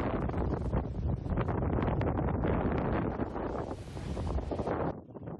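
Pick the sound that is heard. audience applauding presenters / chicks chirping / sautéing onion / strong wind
strong wind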